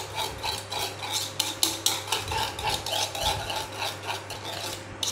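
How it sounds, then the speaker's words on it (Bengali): Sour yogurt with a pinch of salt whisked in a bowl for moong dal dahi vada, a steady close scraping and rubbing with quick rhythmic strokes against the bowl, alone without talk. "ভালো করে দইটাকে ফেটে নেবো"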